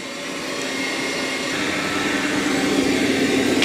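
A Dreame L40 Ultra robot vacuum runs over carpet with a steady, loud whirring suction hum that holds constant throughout.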